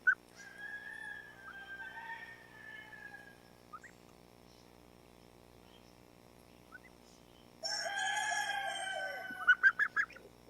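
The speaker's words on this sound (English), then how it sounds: "you hear the chickens in the back" Chickens clucking and a rooster crowing in the background, a drawn-out crow first, then a gap with faint calls, then a louder burst of clucking ending in several sharp squawks.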